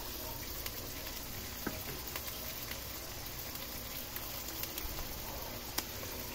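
Soy sauce poured into a pan of frying Pakbet vegetables brings a steady, moderate sizzle and crackle with small scattered pops, even and continuous throughout with no voices.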